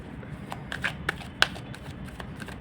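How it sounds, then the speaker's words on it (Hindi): Tarot cards are shuffled and drawn by hand, giving a run of quick papery flicks and snaps, close and fairly crisp, with the densest cluster early and sparser flicks after, and no talk. "मैं कुछ कार्ड्स और निकालना चाहूँगी।"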